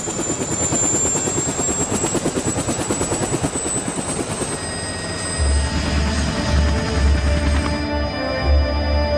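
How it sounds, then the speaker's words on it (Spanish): A helicopter flies over tropical jungle near Flores, Guatemala. Its rotor gives a loud, rapid rhythmic chop and a high engine whine, and a deeper thumping swells in near the end as it passes. "Solo es fácilmente accesible en helicóptero."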